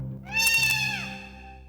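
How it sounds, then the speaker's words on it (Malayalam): A cat gives one loud, close, drawn-out meow, rising and then falling, about a second long, heard on its own with no talking. "ഓ, അപ്പൊ ഈ പൂച്ചയുടെ പണിയാ ഇതൊക്കെ."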